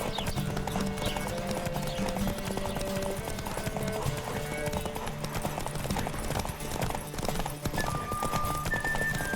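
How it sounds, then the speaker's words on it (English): Galloping hoofbeats clatter in a steady rhythm over a dense, loud game soundscape from The Witcher 3: Wild Hunt with music, a horse's snort or whinny breaking through. "Don't spare the horse!"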